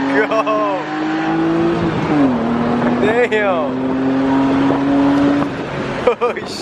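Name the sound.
car doing a burnout at a car meet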